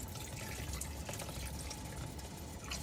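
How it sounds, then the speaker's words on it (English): Water pours steadily into a pot for making turkey dressing, a continuous close gurgling splash without pauses. "I'm gonna add 2 cups of water"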